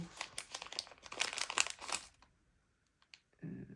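Paper stickers, including a butterfly sticker, crinkle and crackle as they are handled and pressed onto paper: a dense flurry of dry rustles for two seconds, a quiet pause with a couple of small ticks, then another brief rustle.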